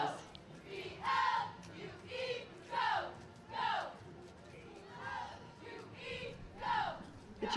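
High school cheerleaders at a Christmas Santaland parade shout a rhythmic cheer in repeated bursts, distant and fairly faint over light crowd noise outdoors.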